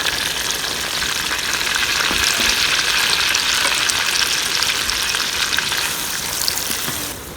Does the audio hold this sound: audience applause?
no